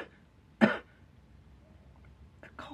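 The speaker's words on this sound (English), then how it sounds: "coughing started." A single sharp cough rings out in a quiet room, followed after a pause by another brief cough near the end.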